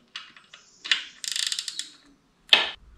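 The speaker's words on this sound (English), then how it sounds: "just as we're torquing down, we're going opposite on each bolt" A ratchet torquing the rocker box bolts on a Harley-Davidson Sportster gives several bursts of close, rapid clicking with short pauses between them, ending in a sharper, louder click.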